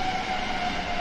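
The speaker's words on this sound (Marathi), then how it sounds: "सॉरी, ट्रेन आली की आवाज येत नाही." A train passing close by gives a loud, continuous rumbling roar with a steady high tonal whine over it, filling the whole brief moment, with no talking.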